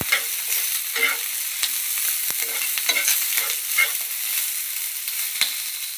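Urad dal roasts in a pan for a horse gram chutney, giving a close, continuous dry rattle and scraping as the lentils are stirred, with occasional sharper clicks.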